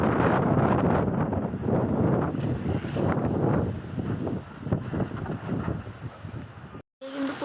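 Storm wind blowing around a house as rain clouds gather: loud, heavy, gusting rush and rumble buffeting the microphone throughout, cutting out for a brief moment near the end.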